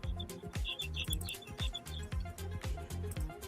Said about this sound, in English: And I hear the birds outside Sharon's house.